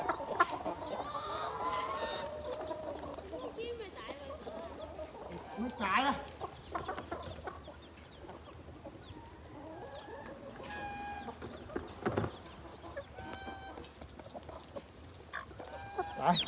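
Chickens and newly hatched chicks of a native farm breed cluck and peep intermittently, fairly close but quiet, with people talking nearby among soft rustling.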